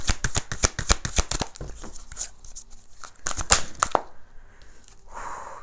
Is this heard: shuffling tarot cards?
yes